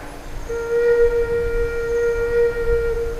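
A single low do note on a Thai khlui flute is held for about three seconds, breathy and sustained with faint background noise.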